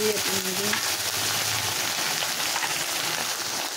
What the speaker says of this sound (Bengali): দিয়ে দিচ্ছি রসুন বাটা, দিয়ে দিলাম আদা বাটা